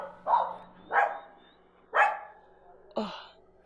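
Dogs near a boatyard bark four times in a steady, evenly spaced series, loud and close with no talk over them.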